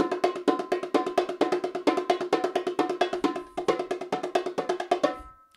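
Bongos playing a simple palm-and-rim pattern at a fast tempo, a dense unbroken stream of crisp, ringing drum hits close up, with a brief low thump near the end and no voices.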